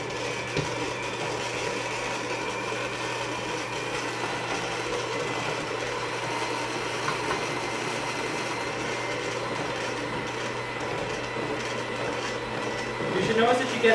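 An electric mixer whirs continuously through cupcake batter, a steady mid-pitched motor hum that holds level and grows a little louder near the end.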